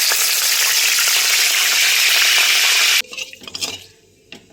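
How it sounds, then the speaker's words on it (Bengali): Loud, steady sizzling of curry leaves frying in hot mustard oil, then the sizzle stops abruptly and a few faint clinks and scrapes follow. "প্রথমে আমি কারি পাতাটা ভেজে নিচ্ছি"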